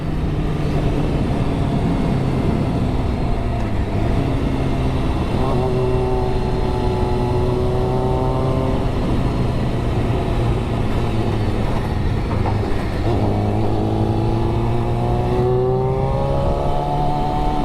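A 650 motorcycle on the road, its engine droning and rising in pitch as it revs, heard loud and steady beneath heavy wind rush.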